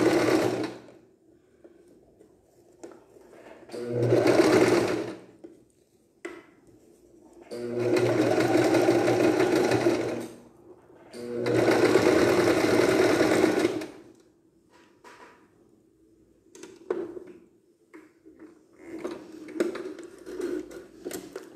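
A sewing machine stitches the collar of a children's bomber jacket in three long bursts of rapid mechanical whirring, separated by quiet pauses and followed by a few short stitching spurts.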